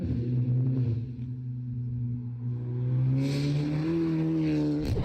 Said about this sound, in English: When you slap on an exhaust That's so system,